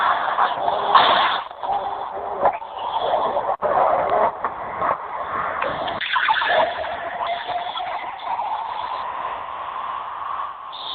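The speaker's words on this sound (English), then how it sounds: "what is that sound of that liquid pouring?" Soda pop poured as a radio-ad sound effect, a steady bright splashing and fizzing pour that runs continuously for about eleven seconds, close and fairly loud with no talk over it.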